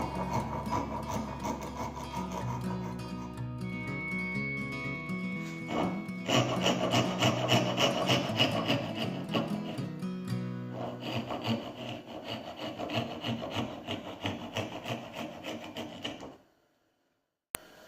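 A hand saw cuts through wood for a small sofa tray table, steady rasping back-and-forth strokes, slower and lighter at first, then faster and louder, stopping before a brief quiet end.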